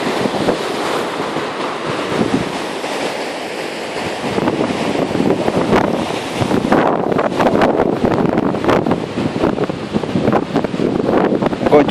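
Strong wind buffets and roars across the microphone during an outdoor walk near a former hydropower station, gusting louder and rougher in the second half, with no talk.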